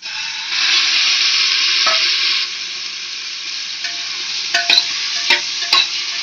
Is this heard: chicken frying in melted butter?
yes